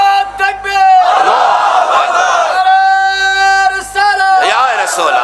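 A large crowd at a Bangla waz religious gathering answers a takbir call with a loud, sustained collective chant, voices surging together in repeated shouted phrases over amplified reverb.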